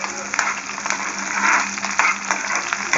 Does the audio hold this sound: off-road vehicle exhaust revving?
no